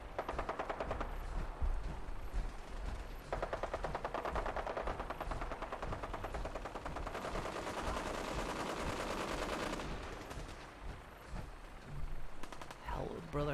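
Rapid gunfire from Brotherhood soldiers in the Fallout 4 video game, sustained bursts of automatic fire crackling almost continuously with brief lulls, moderately loud with a faint voice at times.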